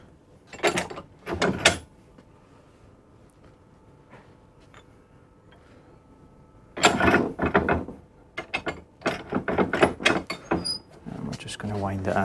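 A Polybush drop link bush for a Rover 200/25, ZR and Streetwise is wound into place with a tool, making two short bursts of close ratcheting and clicking. A quieter stretch separates them, and a voice talks briefly.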